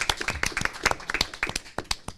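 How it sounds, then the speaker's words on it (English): At a school board of education meeting, a small group claps in a loose, uneven patter of distinct sharp hand claps that thins out toward the end, with no talking over it. "Carrie said they deserve a round of applause."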